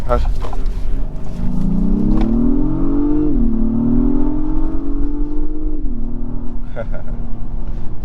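A 2022 Acura MDX Type S Advanced SUV pulls away, its engine note rising steadily and loud from inside the cabin, dipping briefly at a shift before climbing again, with a voice speaking over the start.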